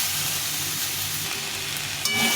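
Vegetables for shukto sauté in a pan with turmeric and spices, giving a continuous close hiss of frying with a faint scrape near the end and no talking.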